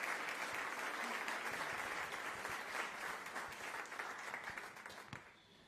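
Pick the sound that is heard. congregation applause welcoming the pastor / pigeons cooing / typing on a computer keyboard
congregation applause welcoming the pastor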